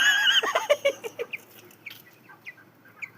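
Nearby hens cluck in a quick burst that then thins into scattered, fainter clucks, with no talking over them.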